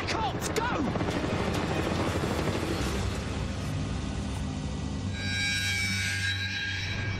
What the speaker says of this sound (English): That is a military helicopter. In fact, it's a Black Hawk.